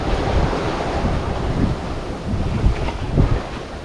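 Waves rush and wash around a sailboat surfing down close-set following seas at about 6.2 knots under a tiny scrap of jib, with steady wind buffeting the microphone and surges of water swelling louder near the end.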